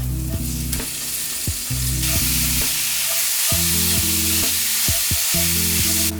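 Ground pork frying with ginger and red pepper for pork lo mein, giving a loud, constant close sizzle broken by repeated metallic spatula clinks and scrapes against the pan, with no voices.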